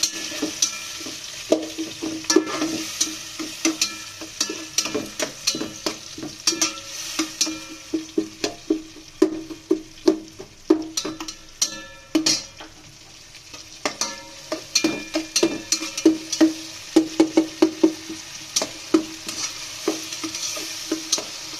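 Ginger and garlic paste sautés in a pan for a lunch dish, with a steady close sizzle and many sharp scraping strokes of a stirring spoon in an uneven rhythm.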